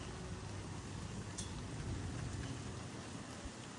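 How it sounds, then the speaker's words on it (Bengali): Steady, even rain hisses throughout, a dense wash of falling water with no voices, quiet and constant. "আজকে ওয়েদারটা খুবই খারাপ, সকাল থেকে আজকে সারাদিন বৃষ্টি"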